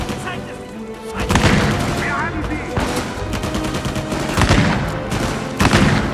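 Bursts of rapid gunfire crackle repeatedly in Uncharted 4, some in quick automatic strings, with game sound effects and a voice in between.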